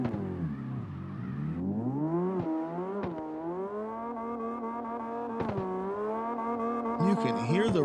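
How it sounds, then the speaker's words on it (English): Race car engine revving hard on a drift course, high wavering pitch rising and falling through sustained throttle with sharp shifts and tire squeal, loud and continuous with faint commentary underneath. "You can hear the revs cranking. That machine is wound up."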